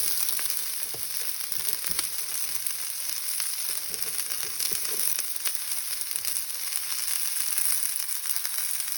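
Onions and white spring onion stems fry in a pan with a steady, close, bright sizzle that carries on without a break.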